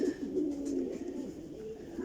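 Confined pigeons coo in a low, steady, continuous murmur, soft and close, with no voices.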